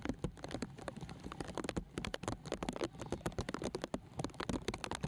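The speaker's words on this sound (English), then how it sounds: "Just look at the way it's raining cats and dogs." Heavy rain pours down during a Kerala Premier League football match between EMEA College and Kerala Blasters FC. It comes as a dense, irregular patter of sharp taps that is constant and moderately faint, with no voices.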